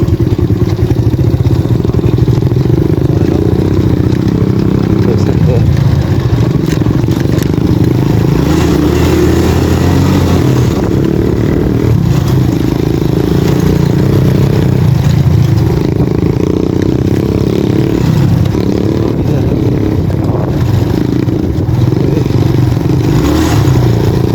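A dirt bike ridden off-road over rough terrain, its engine droning loud and close throughout with shifts in revs and rattling clatter from the bumpy ground, and no voices.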